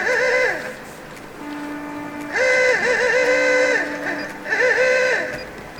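A small boat's horn sounding repeated warbling, bleating blasts in bursts, steady and fairly loud over a low background rumble.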